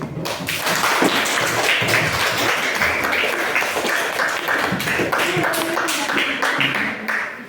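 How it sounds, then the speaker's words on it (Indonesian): Classroom of students clapping together after a biology lesson, a dense, steady patter of many hands held for several seconds at close range, with sharper individual claps standing out. "coba tepuk tangan lalu kita"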